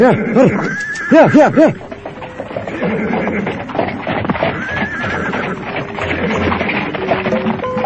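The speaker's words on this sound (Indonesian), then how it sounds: "Di atas kereta Dokar yang ditarik seekor kuda itu, Kameswara memilih diam tidak berbicara." A horse whinnies loudly near the start, then hooves clip-clop steadily as a horse-drawn dokar cart rolls along, with scattered voices in the background.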